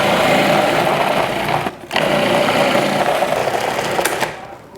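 Homemade sauerkraut being made from two ingredients, with a loud, steady machine whir of the noisy preparation step running for several seconds, briefly cutting out once, then fading at the end.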